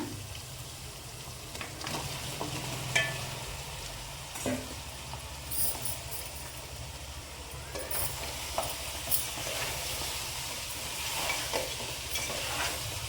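Goat head curry meat sizzles in a pan after going into tamarind liquid, with soft frying hiss throughout and intermittent spoon stirring clinks and scrapes, close and moderately quiet.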